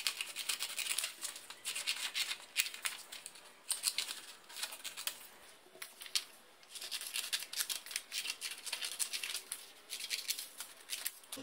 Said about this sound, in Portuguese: Eu vou recortar esse molde.